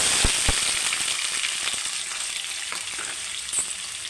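Onions sizzling in hot oil with mustard seeds, cumin and curry leaves: a steady, bright frying hiss, with a few sharp pops and stirring knocks near the start.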